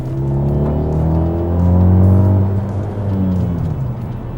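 A 2013 Alfa Romeo MiTo's 0.9 TwinAir two-cylinder petrol engine revs steadily, its loud, buzzy drone climbing to a peak midway and then easing, heard alone without talk.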